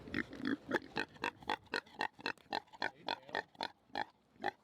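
A pig in a muddy pen grunts and oinks in a rapid, steady series of about fifteen short snorts, close and fairly loud, with no talk over it.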